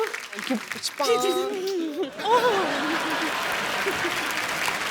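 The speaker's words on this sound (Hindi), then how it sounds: "एक बार हेजल के लिए जोरदार तालियां" A studio audience breaks into sustained applause for Hazel on a comedy talk show. The dense clapping swells after a brief voice and holds steady to the end.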